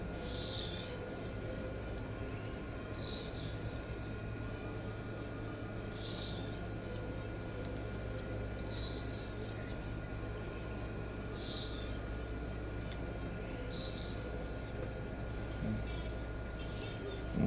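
A knife is drawn across a Sharpal 325/1200 diamond plate on the 1200 grit side in light alternating passes, giving rhythmic gritty scraping strokes about every two seconds, soft and close.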